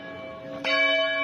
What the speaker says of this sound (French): Des cloches qui sonnent